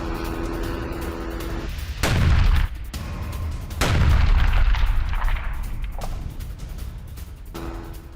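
Missile strike explosions hitting a Merkava tank: two heavy, deep booms a couple of seconds apart, each followed by a rumbling tail, over a constant background roar.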